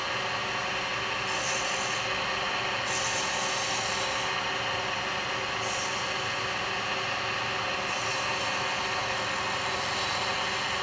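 A wood lathe turns a Christmas nutcracker while a carbide detail chisel cuts the spinning wood, producing a continuous steady rushing, scraping hiss that stays even and close throughout.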